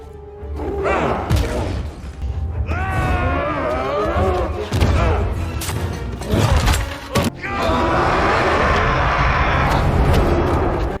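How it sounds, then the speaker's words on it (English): The Hulk's deep, guttural monster growl from She-Hulk rumbles through a chaotic brawl, with heavy thuds and crashes breaking in around it. "a familiar, deep, and animalistic growl"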